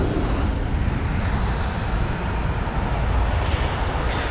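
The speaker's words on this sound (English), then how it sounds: "So this is from Amsterdam, the A319. Just touched down nice and smoothly." A British Airways Airbus A319 arriving from Amsterdam rolls out after touchdown at London Heathrow, giving a steady broadband engine roar mixed with wind rumble, continuous and fairly loud, with no talking.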